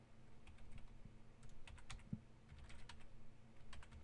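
Quiet, close clicks from a computer keyboard as commands are typed into a Cisco router session, irregular keystrokes in short bursts over a faint low hum.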